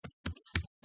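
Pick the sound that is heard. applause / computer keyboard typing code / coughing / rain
computer keyboard typing code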